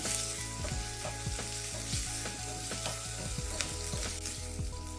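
A corn patty mixture sautéing in a pan, a loud continuous sizzle with repeated scraping strokes of a spatula and a low steady hum beneath, no talking.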